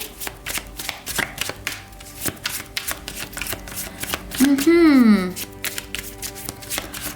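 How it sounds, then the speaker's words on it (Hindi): Tarot cards being shuffled by hand, a steady run of crisp riffling flutters close up, with a brief rising-and-falling tonal sweep partway through. "शफल कर लेते हैं कार्ड्स को ऑप्शन 3 के लिए"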